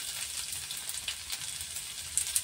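Chopped garlic sizzles in hot white oil and ghee with cumin, a bright, dense crackle that holds steady and close for a few seconds with small pops near the end.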